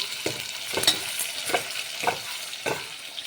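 Okra cooking in a pan for okra stew, with a utensil stirring through it in repeated scraping strokes over a soft, steady sizzle, close and with no talking.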